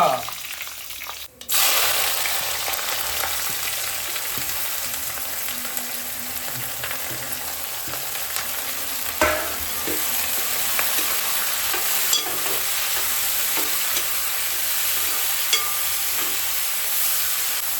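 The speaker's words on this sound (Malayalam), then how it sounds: "വെളിച്ചെണ്ണ മൂത്ത് നമ്മൾ കടുക് ഇട്ടു അതെ ഈ കറിവേപ്പല" Mustard seeds and curry leaves sizzle in hot coconut oil: a loud, steady frying hiss, close by, with scattered crackles and pops and occasional stirring knocks.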